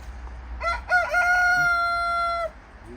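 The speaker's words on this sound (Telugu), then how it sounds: "పుంజులు ఉన్నాయి పెట్టలు ఉన్నాయి" A rooster crows once in a poultry shed holding roosters and hens, a loud drawn-out call that rises and holds before trailing off, with a faint cluck afterward in a quiet setting.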